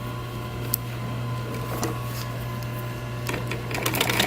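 Sewing machine back stitching upholstery on a car headrest, a steady close mechanical whir running throughout with a low hum and a few brief clicks, growing slightly louder toward the end.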